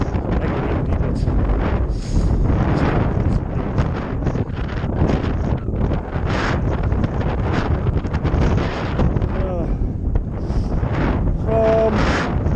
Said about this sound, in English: I don't know if you can hear us for the wind.